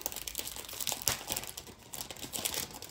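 A wrapped souvenir package from Thailand being opened by hand, with close, continuous crinkling and rustling of wrapping and small tearing crackles and no talking.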